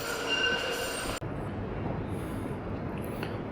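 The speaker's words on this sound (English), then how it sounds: "Right, tram is moving." A tram rolls along street rails, giving a steady close rumble with a brief high wheel squeal at the start and faint squeaks later.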